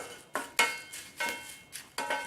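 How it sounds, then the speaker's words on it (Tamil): Curry leaves are dry-roasted in a pan for mustard and sesame podi. A spatula scrapes and taps the pan in a steady series of about eight close, crisp strokes, with no voices. "கருவேப்பிலை இலையை இப்போ சேர்த்துட்டு லைட்டாக ஒரு வாட்டி வறுத்துக்கலாம்"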